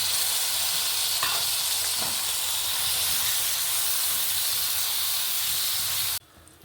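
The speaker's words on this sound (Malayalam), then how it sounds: "ഇനി നമുക്ക് തക്കാളി ചേർത്ത് കൊടുക്കാം കേട്ടോ." Tomatoes sauté in a hot pan for beef biryani, a loud continuous sizzle and hiss with a couple of faint stirring scrapes, stopping abruptly near the end.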